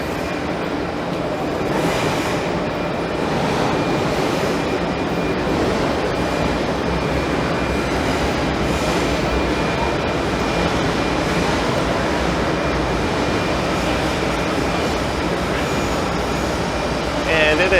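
Train rumbling and rattling through a busy metro station in Paris, a loud continuous roar with clattering wheels and faint squeals, crowd noise mixed in throughout.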